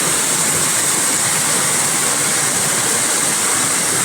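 Water rushing through a spring-fed canal, a loud, steady, unbroken roar of flowing water close by with no voices.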